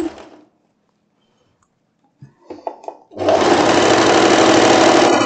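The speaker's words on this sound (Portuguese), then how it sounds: "Vamos costurando." A sewing machine stitching a floral wrap dress: after a short pause and a few clicks, the machine starts up and runs loudly and steadily at close range, with a fast, even whirring drone.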